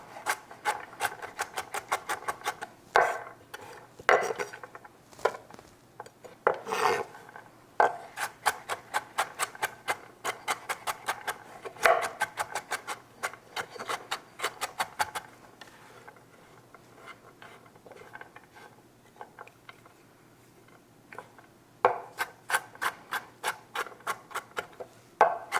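A knife dices rich stew ingredients finer on a board, a long run of quick, sharp chopping taps in uneven bursts with brief pauses, close and crisp with no talk.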